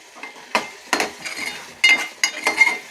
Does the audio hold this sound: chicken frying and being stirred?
yes